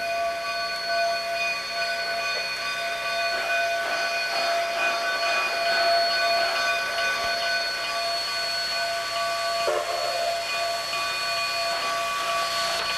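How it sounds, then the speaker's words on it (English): A narrow gauge steam locomotive on the Cumbres and Toltec line sounds a long, steady whistle signal. The multi-tone whistle holds over the low rumble of the moving train for many seconds, with no speech. "There are 14 different signals used. We will hear several of them before we arrive in Antonito."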